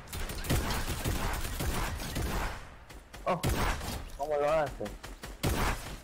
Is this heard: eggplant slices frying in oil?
no